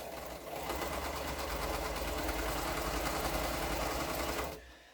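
Domestic sewing machine chain piecing pairs of quilt fabric pieces, a steady fast mechanical whirring hum running for several seconds at moderate volume before stopping, with no talking.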